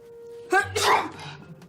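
A single close, sharp sneeze bursts out mid-scene, followed by brief talk nearby.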